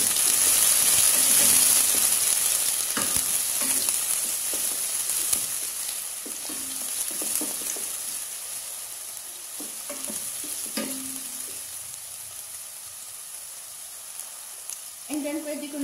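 Finely chopped onions hit a hot pan and fry with a loud hiss that slowly settles into steady sizzling, broken by stirring clinks close by.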